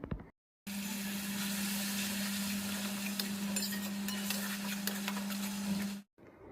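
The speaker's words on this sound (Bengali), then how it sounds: "তখন আমি পুরো পটলের পেস্টটা এটার মধ্যে দিয়ে দিলাম" Pointed gourd paste frying in oil with onion and garlic, a steady close sizzle with light stirring and a constant low hum, starting abruptly after a brief silence and cutting off near the end.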